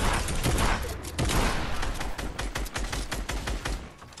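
Rapid video game gunfire in a battle royale match with gliders and storm: dense, continuous bursts of close shots crackling loudly throughout, with no talk.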